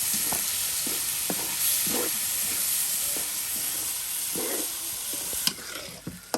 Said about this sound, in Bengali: সুন্দর করে এখন এই ট্যাংরা মাছগুলো মশলার সাথে কষিয়ে নেওয়া হবে